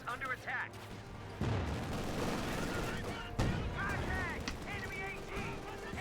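A pack howitzer fires on a half-track in the World War II strategy game Company of Heroes 2, with sharp booming impacts and ongoing battle noise running under a commentator's continuous speech.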